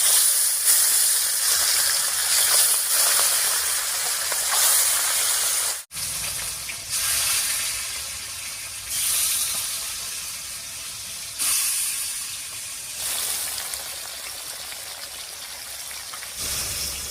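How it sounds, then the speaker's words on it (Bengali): Large pieces of snakehead fish sizzle in hot oil in a pan, a loud continuous hiss and spatter with shifting surges, briefly interrupted once before the frying carries on steadily. "তেল গরম হয়ে গেছে, এবারে মাছগুলো ভেজে নিচ্ছি।"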